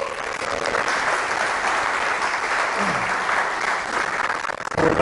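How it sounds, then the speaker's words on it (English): Applause from an audience at a marketing talk, steady and fairly close, continuous clapping that carries through most of the moment before breaking off near the end. "Round of applause for Quique."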